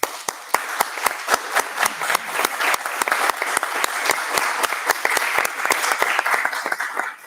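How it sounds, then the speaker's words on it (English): Audience applause at an international conference on the Azores and Atlantic challenges, following a panel session: a steady, sustained round of clapping from a modest crowd, with sharp individual claps standing out clearly over the dense wash throughout. "they deserve a big round of applause"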